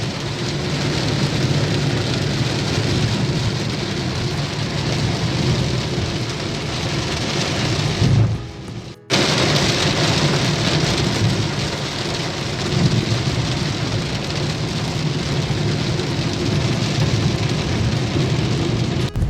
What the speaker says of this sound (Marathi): भयानक पाऊस आहे भयानक पावसाचा आवाज तुम्ही ऐकू शकता